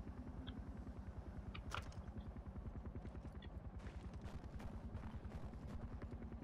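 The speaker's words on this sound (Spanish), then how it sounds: "Tengo un helicóptero." A helicopter in the video game Far Cry 4 gives a steady, fast rotor chop that pulses evenly throughout, with faint gunfire and small bursts scattered over it.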